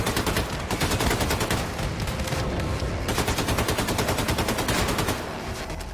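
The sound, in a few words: assault rifle gunfire in video game Wolfenstein II: The New Colossus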